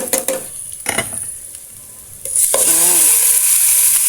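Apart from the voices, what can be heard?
sautéing chicken with garlic and onion in a pan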